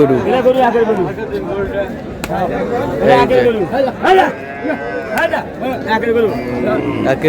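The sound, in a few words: cow mooing at cattle market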